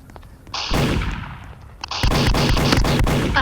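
Loud bursts of gunfire in two bouts: a first volley, a short lull, then rapid repeated shots close and sharp.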